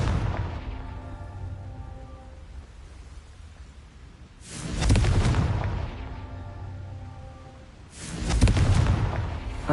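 Two booming Confringo spell blasts go off in Hogwarts Legacy, spaced a few seconds apart. Each is a sudden loud burst that decays over about a second, with a low rumbling ambience between them.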